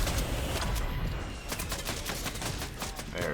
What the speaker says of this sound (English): They're shooting hard.